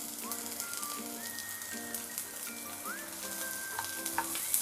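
Green chilli and garlic added to browned onion frying in oil for a fenugreek leaf dish, a steady close crackling sizzle with light popping throughout.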